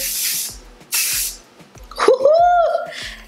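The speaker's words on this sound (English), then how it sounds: "And then just take your hairspray again." Hairspray misted over a jumbo braided ponytail in two short, close hissing bursts, then a louder stretch of spray hiss mixed with watery, gargling-like vocal sounds.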